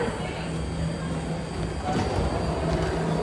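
A new ten-car, three-door Red Line train to Millbrae departs platform 1 at Powell Street, giving a steady, loud underground rumble and mechanical hum that swells slightly toward the end.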